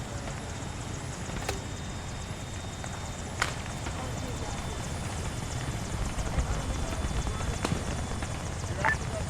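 A civilian helicopter in Arma 3 takes off with a steady, droning rotor roar that holds throughout, broken by a few sharp clicks.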